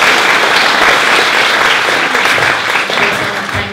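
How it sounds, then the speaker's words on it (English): Theatre audience applauding a show's performers, a dense steady clapping that fills the room throughout and eases slightly near the end. "Maybe we'll give them a round of applause."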